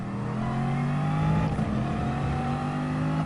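A Bugatti Veyron race car in Gran Turismo Sport, a Gr.4 online race at Monza, its engine droning steadily under acceleration with sustained harmonic tones, loud and close throughout with no talk.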